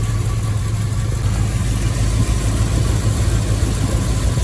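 Triumph Stag engine, suspected of a blown head gasket and leaking coolant, idling steadily at close range; a continuous low, even rumble with a faint vibrating hum runs throughout, with no talk.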